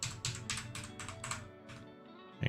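Someone types on a computer keyboard in a burst of quick, close key clatter, several taps in a loose rhythm that trail off into a few scattered strokes.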